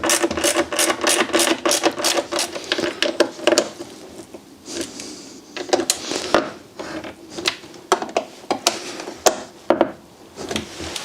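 Torx 25 screws being reinstalled on a BMW M57 diesel engine during a turbocharger replacement, a steady run of close, sharp metallic clicks and ratcheting taps that thin out into scattered ticks toward the end.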